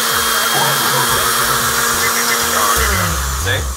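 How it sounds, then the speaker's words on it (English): A countertop blender runs continuously while blending a drink, giving a steady loud motorized whir with a droning, vacuum-like hum and slight shifts in pitch as it works. "So now we're going to blend here."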